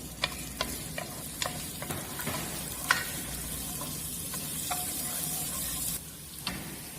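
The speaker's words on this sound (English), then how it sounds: "So oil has been heated properly, and now we are adding chopped garlic in it." Chopped garlic fries in properly heated olive oil as a base for red tomato sauce, a steady moderate sizzle punctuated by sharp clicks and scrapes of stirring.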